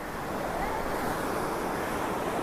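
Water rushes steadily far below a high crossing in Kashmir near the LoC, a dense, even roar mixed with wind for a couple of seconds.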